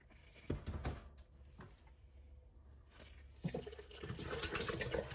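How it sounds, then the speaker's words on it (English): Water running into a jar that held cooked beans for a greens and beans soup, a low steady pour with splashy bursts that swell toward the end, alone with no talk. "you can fill the jar back up with water to make sure you get all the beans and bean juice out of there."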